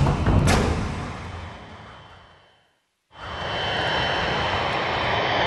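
A damaged, overweight Boeing 747 on its final landing approach, losing altitude on two engines, gives a loud sustained engine roar. The roar fades out to brief silence, then returns just as strongly.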